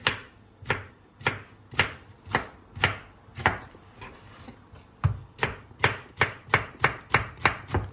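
A knife chops food finely on a cutting board in a quick, regular rhythm of sharp close knocks, briefly pausing then speeding into a faster run of strokes, with no talk.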